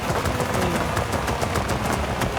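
Rapid crackling backfire pops from a tuned McLaren 765LT exhaust in Forza Horizon 5, a dense, loud, evenly spaced burst of sharp bangs running through the whole stretch with no talk.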